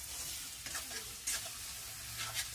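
Turmeric spice paste with a little water is stirred in a hot pan for a village-style kuche fish dish, soft scraping strokes over a faint sizzle, quiet and close.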